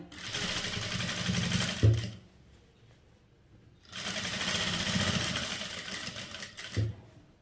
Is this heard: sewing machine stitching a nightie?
yes